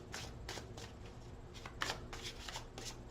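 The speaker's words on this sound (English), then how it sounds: "One more shuffle." A deck of tarot cards being shuffled up close, with a series of quick, crisp riffling bursts repeating in an even rhythm; no talking.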